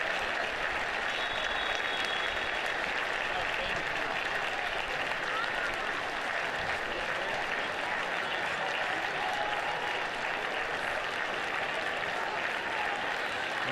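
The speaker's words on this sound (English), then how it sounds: "a nice sporting gesture from the crowd to applaud the visiting goalkeeper" Steady applause from a large football stadium crowd for the visiting goalkeeper, a dense, even wash of clapping that holds throughout without a break.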